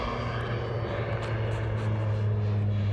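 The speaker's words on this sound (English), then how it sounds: "I think there's a plane here spraying." A crop-spraying propeller airplane drones steadily overhead, its engine a constant loud hum with no break throughout.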